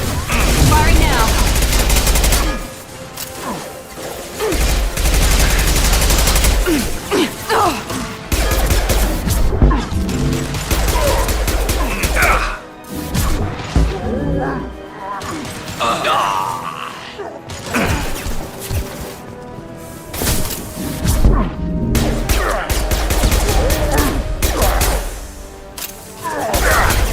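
Gunfire erupts in Mass Effect 2 combat on Insanity difficulty, dense volleys of loud shots and impacts that come in bursts with short lulls.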